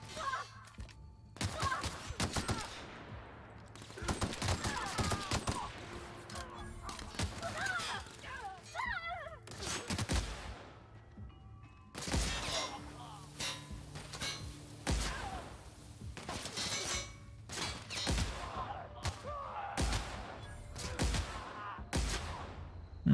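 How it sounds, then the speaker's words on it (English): Plasma gun shots in The Outer Worlds, sharp, scattered bursts fired in irregular clusters over a droning game background, with occasional sighs. "Plasma gun is good."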